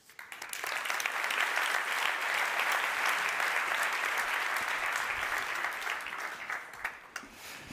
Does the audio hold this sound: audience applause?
yes